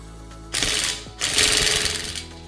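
A RIDGID R872081B 18V sub-compact 1/2 in impact wrench tightens car lug nuts in two loud, close bursts of buzzing hammering, each about half a second to a second long, with a short gap between.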